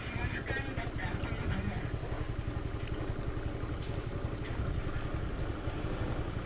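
A KTM motorcycle engine on a busy Jakarta street, a steady mid-pitched drone blended with dense traffic noise throughout, with no talking.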